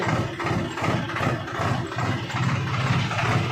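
A tractor engine idles close by with a steady, low, throbbing rumble and slight regular pulsing, with no other sounds throughout.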